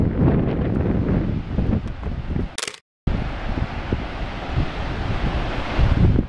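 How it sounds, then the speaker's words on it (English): Steady roar of ocean surf and gusting wind buffeting the microphone on the southern Oregon coast, briefly cut by a short silent gap midway before the rushing noise resumes. "Hear the ocean."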